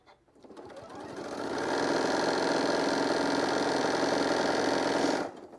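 A sewing machine runs at a steady high speed, stitching stretchy fabric strips onto a shoulder wrap, its motor whirring continuously and close for about five seconds before stopping abruptly.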